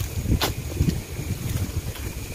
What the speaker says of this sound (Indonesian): Anginnya benar-benar menggila ini emang.